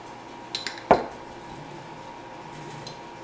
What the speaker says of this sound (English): See if I can get a fork.